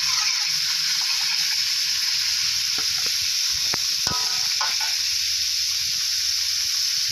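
Garlic chive flowers stir-fried with blanched liver and sauces in a hot pan, a continuous loud sizzle with a few scraping strokes of a spatula mid-way.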